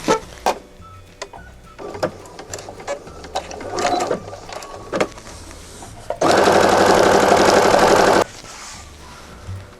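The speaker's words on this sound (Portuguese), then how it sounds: "Costurou o tecidinho do bolso interno." A sewing machine stitches the small inner-pocket fabric, fabric on fabric, for a manicure kit, running in one loud steady two-second burst after scattered clicks and handling noises.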